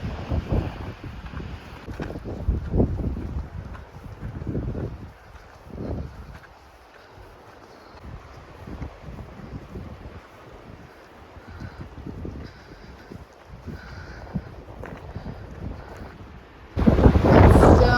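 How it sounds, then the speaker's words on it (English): Strong gusting wind of up to 60 mph on the Pacific Crest Trail buffets the microphone in loud, uneven rumbling bursts, easing briefly before a hard gust roars in at the end. "Horribly windy, but it's pretty"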